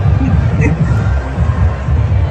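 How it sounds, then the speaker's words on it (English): A large crowd at a Trump rally in Butler, a dense, loud, continuous roar of many voices and cheering heard from within the gathering. "today Trump was back in Butler, and this was the crowd"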